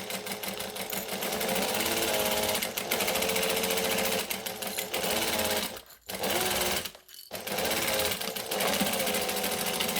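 A sewing machine stitches and back stitches through a handbag in loud, close bursts of rapid needle chatter, broken by two short pauses as the direction changes.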